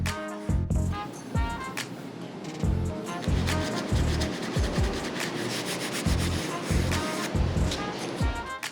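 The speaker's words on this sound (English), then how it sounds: "now that we got these all hit with the gray scuff pad" Gray scuff pad rubbing over hard plastic interior trim pieces for a 632 big-block OBS Chevy, a close, steady run of rhythmic scrubbing strokes with brief pauses between passes.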